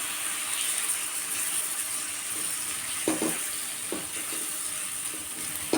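Tomatoes and spices being stirred in a frying pan for a cauliflower, potato and pea vegetable dish, with a steady close sizzle and a few soft scraping strokes of the spoon.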